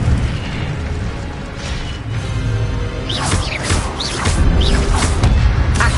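The Incendio fire spell being cast in Hogwarts Legacy, a roaring whoosh with bursts and pops over steady game ambience and some chiming effects, sustained and fairly loud throughout.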